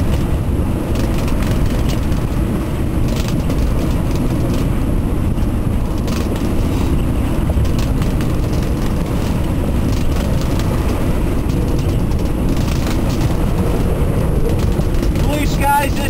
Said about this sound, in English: 30 knots of wind now.